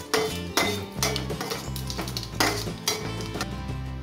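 Bay leaf and whole spices are stirred in a pan with a metal spoon, producing several sharp clinks and scrapes against the pan over a soft sizzle.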